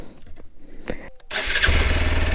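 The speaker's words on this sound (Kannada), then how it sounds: "ಇಲ್ಲಿ ಕಿಕ್ ಸ್ಟಾರ್ಟು ಇದೆ ಕಿಕ್ ಸ್ಟಾರ್ಟರ್" A Hero Xpulse 200 4V Pro motorcycle with an oil-cooled four-valve engine takes a few short kick-start strokes, then its engine catches about halfway through and settles into a loud, close, rumbling idle.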